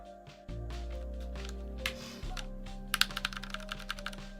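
A Ducky One 2 Mini hotswap mechanical keyboard is typed on at close range, a quick run of crisp key clacks over a low background hum.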